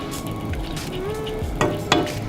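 Egg frying over hard in a pan, a steady soft sizzle running throughout with a couple of brief clicks or taps near the end.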